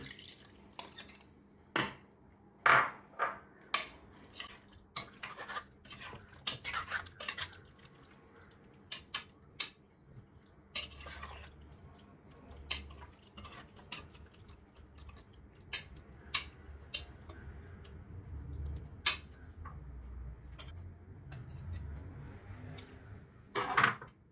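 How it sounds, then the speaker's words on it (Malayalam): Spice powders mixed in tamarind water being added to marinated pork, heard as scattered light taps, clinks and wet drips of utensils and liquid in a bowl, faint and close with quiet gaps, with no voices. "മാരിനേറ്റ് ചെയ്ത് വെച്ചിരിക്കുന്ന ഇറച്ചിയിലേക്ക് നമ്മൾ പുളിവെള്ളത്തിൽ കലർത്തിയ പൊടികൾ ചേർത്ത് കൊടുക്കുന്നു."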